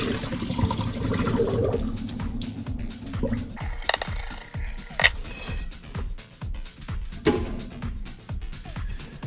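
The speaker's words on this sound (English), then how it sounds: "and now I'm going to empty all the water." Soaking water being poured out of a container of raw chicken wings into a sink, with a steady gush and splashing that breaks into irregular drips and knocks near the end.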